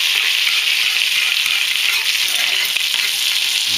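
Butter browns in a pan with a steady, close, loud hiss and sizzle that never lets up, broken only by a few faint clicks.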